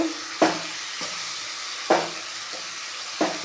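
A spatula stirring bitter gourd thokku in a sizzling pan, with scraping strokes landing roughly every second and a half over a steady frying hiss, no voices.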